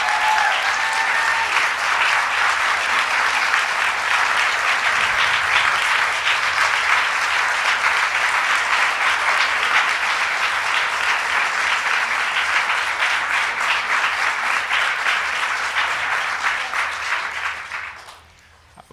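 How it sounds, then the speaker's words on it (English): A large audience at a political rally marking the Roe v. Wade anniversary applauds loudly and steadily for a long stretch, dense clapping that fades out near the end. "Let's give Sarah a big round of applause."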